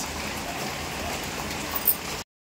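Steady rain falls outdoors as a dense, even hiss that holds without a break, with one slightly louder patter near the end before it cuts off abruptly.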